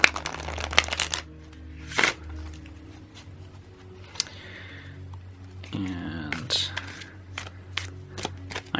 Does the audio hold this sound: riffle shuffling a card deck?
yes